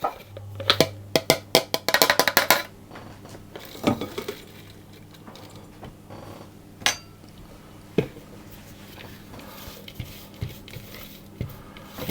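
Ceramic dishes and cutlery clink in a quick cluster of sharp knocks at the start, then sparse scattered clinks follow in a quiet home kitchen while a lemon cake batter is tipped into a bowl.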